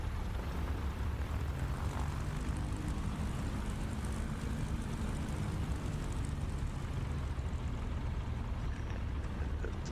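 Aeronca Champ propeller airplane in Microsoft Flight Simulator, a steady low engine and propeller drone held loud and constant throughout, with no talk.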